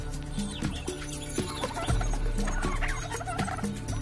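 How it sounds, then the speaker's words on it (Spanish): An Australian brush-turkey calls with a busy run of throaty, gobbling clucks and short bursts, close and fairly loud, repeating irregularly over a low background hum. "Los talégalos son aves vulnerables que solo se defienden cuando se hallan en grave peligro."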